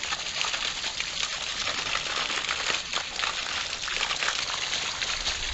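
Water gushing steadily at a fountain after heavy rain, a dense continuous rush heard up close with no talk over it.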